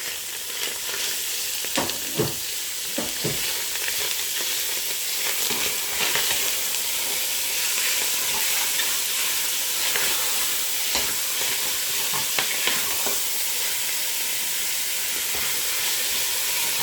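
Minced meat frying with onion in a pan, a continuous loud sizzle with scattered stirring scrapes and clinks throughout, no talking.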